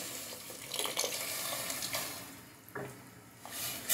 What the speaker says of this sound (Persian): کمی که تفت بردن، میاد آب مرغی که داشتیم